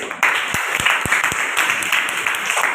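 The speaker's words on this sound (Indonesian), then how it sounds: "beri tepuk tangan dulu untuk kelompok 1" A classroom of students applauds a student group after their presentation, brisk close clapping from many hands with a few sharper individual claps standing out, fairly loud and continuous.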